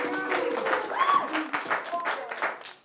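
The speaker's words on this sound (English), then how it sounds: "Round of applause for those guys." Studio audience applauding for two guests on a talk show, a dense patter of clapping that rises and falls over about three seconds with some voices and cheers mixed in.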